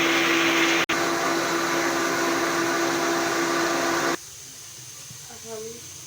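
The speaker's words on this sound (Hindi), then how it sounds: "अब हम इसको ग्राइंड कर लेंगे।" A blender grinds strawberries with salt and water in a loud, steady roar that cuts off abruptly, leaving quiet room tone and a faint voice.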